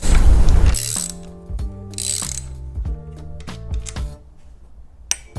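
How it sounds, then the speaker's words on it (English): Ratchet loosening the top handlebar clamp on a Harley-Davidson Sportster, using an extension: several quick bursts of metallic clicking, about four rapid runs of pawl clicks close up, with brief pauses between them. "Now we are going to loosen the top clamp and go ahead and take it off."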